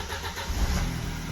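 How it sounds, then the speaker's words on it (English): Audi A4 B7 2.0T engine starting after a coolant reservoir replacement, a brief low rumble that swells into a steady running note up close, with no talk. "We'll start the engine."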